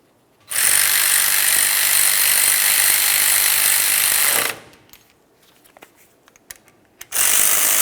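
A tool runs down the rear brake hardware bolts on a 1994–2002 Ram 2500 during backing plate replacement: one loud, continuous mechanical burst of about four seconds, a stretch of quiet clicks and taps, then a second burst starting.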